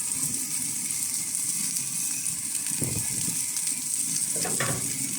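A porterhouse steak sears on a very hot grill plate, giving a steady, loud, close sizzle throughout with a couple of brief crackling bursts.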